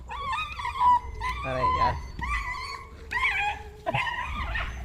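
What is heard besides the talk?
dogs fighting and barking on the road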